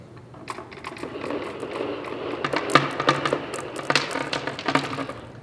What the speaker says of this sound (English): the clacking and clanking that you hear is the marbles hitting each other once they reach the bottom